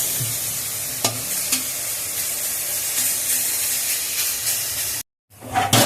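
Jute leaves frying in a pan, giving a continuous close sizzling hiss broken by a few scraping stirs, then a brief moment of silence before the frying noise resumes.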